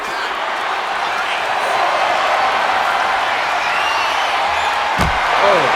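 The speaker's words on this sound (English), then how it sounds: "what a gut buster from Seth Rollins" A gut buster slam lands amid a roaring, steady arena crowd in the WWE 2K25 wrestling game, with a sharp thud cutting through the continuous cheering near the end.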